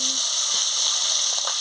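Pabda fish hissing in hot oil, a loud, steady, bright sizzle filling the short moment without a break, close to the pan.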